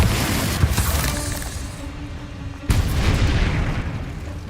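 Bombarda spell explosions in the video game Hogwarts Legacy: a loud, rumbling blast, then a second sharp booming burst partway through, with no talking.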